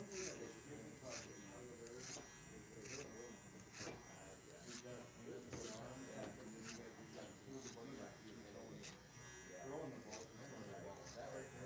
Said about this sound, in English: The clipper over comb is not a step for perfection. It's just for removing bulk